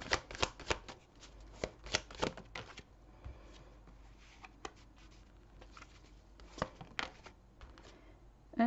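Tarot cards being shuffled for a reading, crisp riffling snaps and flutters close by, dense at first, then sparser slides and taps with a few sharper flicks.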